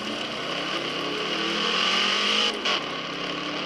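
Race car engine in the Assetto Corsa sim racing game, a loud, steady high-pitched drone that swells slightly as the revs climb, with a brief dip near the end as if shifting gear; no talking.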